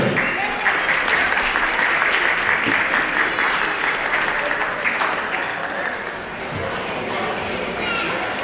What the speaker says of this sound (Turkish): Güzel alkışlarımız.